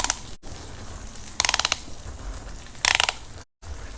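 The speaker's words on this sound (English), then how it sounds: "So it's ratcheted, as you can hear. So I just turn the handle" A ratcheting handle being turned, probably on a pineapple corer, gives two quick bursts of rapid mechanical clicks about a second and a half apart over a low kitchen rumble.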